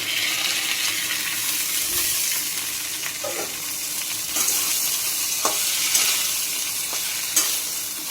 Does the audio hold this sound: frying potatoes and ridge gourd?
yes